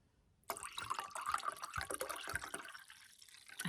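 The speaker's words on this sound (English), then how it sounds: "I have a heavy pour." Rosé wine poured from a screw-top bottle into a glass, a steady liquid splash and trickle lasting a few seconds, close and fairly quiet with no talking.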